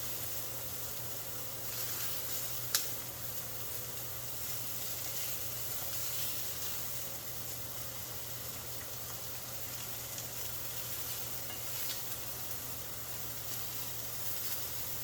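Tunisian-spiced meatballs fry in a pan with a steady, close sizzle and hiss that continue through the clip, broken by one sharp click near the start. No one speaks.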